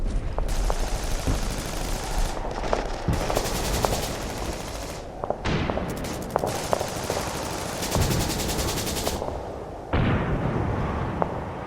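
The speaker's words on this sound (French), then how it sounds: "Profitant de la verdure pour se dissimuler et se protéger des tirs de mitrailleuses" Sustained machine gun fire in a World War II battle assault with tanks, dense rattling bursts that run almost without pause, loud and close, with sharp individual shots and heavy blasts cutting through.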